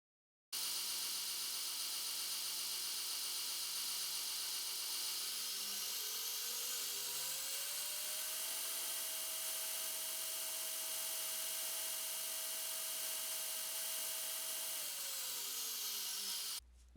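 Belt grinder with a ceramic glass platen running at full speed, a loud steady whining drone that ramps up in pitch partway through, holds, then winds down near the end, with no talking.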